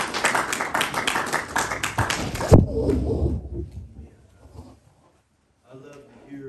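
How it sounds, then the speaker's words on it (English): A church congregation claps hands for a bishop, fast loud clapping close by that stops abruptly, followed by quiet and then a voice speaking. "Let's give him a hand clap"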